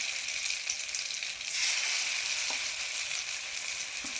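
Chicken kebab pieces fry in hot oil in a pan, giving a continuous bright sizzle. It swells briefly partway through, with a couple of soft knocks from stirring.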